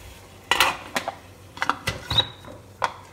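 A metal lid is set over an idli stand filled with dhokla batter, making a handful of light, separate metallic clinks and taps spread unevenly across a quiet kitchen background.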